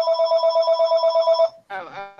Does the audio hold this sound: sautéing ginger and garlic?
no